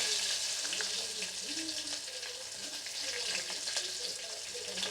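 Onions frying in hot oil with mustard seeds, fenugreek and cumin, a steady close sizzle with faint crackles running throughout.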